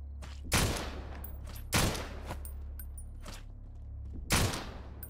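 Three heavy gunshot blasts ring out in a co-op VR zombie survival game, spaced about a second or more apart over a steady low hum, loud and close with decaying tails.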